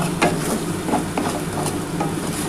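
Chana dal cooked with young jackfruit fries in a pan, a dense close sizzle with irregular scraping stir strokes every half second or so, no talking.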